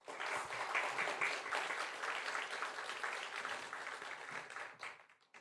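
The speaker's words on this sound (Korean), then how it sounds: "여러분 먼저 환영의 박수 한번 하겠습니다." A congregation at a university chapel worship service claps in welcome for a visiting guest, a steady wash of many hands lasting about five seconds before it tapers off and stops.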